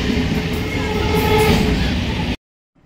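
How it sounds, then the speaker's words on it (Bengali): A train at a railway station rumbles loudly and steadily up close, a broad, continuous roar of wheels and engine with a faint tonal whine, cutting off abruptly into near silence. "এই স্টেশনে একটা ট্রেন আসতে ট্রেন ছেড়ে দিল"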